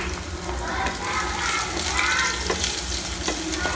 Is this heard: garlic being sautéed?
yes